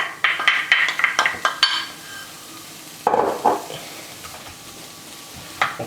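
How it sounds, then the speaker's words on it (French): Onions browning in melted butter in a pan, with a series of close metal clinks and scrapes of a utensil against the pan over a soft background sizzle. "on va faire fondre un petit peu de beurre et on va faire venir dorer nos petits oignons"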